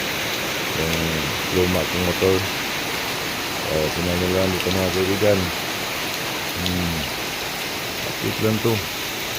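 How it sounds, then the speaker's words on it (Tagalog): Steady rain from Typhoon Crising falls in a constant hiss that fills the outdoor space. Someone talks in bursts over it, and the downpour keeps a level roar the whole time. "Tuloy ang ulan"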